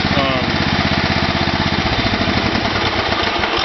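A Kohler engine on a Wheel Horse tractor, one that won't start when hot, runs with a loud, close, rapid chugging and knocking rhythm that holds steady throughout.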